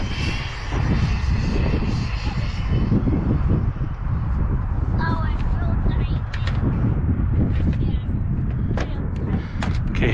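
Kraton EXB 6S V2 RC car with a 16T speed pinion runs at full throttle, producing a loud, sustained, high-pitched electric motor whine with a roaring rush, close and steady for the whole stretch, with voices talking over it.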